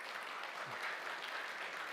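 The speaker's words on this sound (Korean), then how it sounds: "우리 환영의 박수 올리시고요" Church congregation at a Korean Baptist Sunday service applauding to welcome a new minister and his wife, a steady wash of distant clapping filling the whole moment.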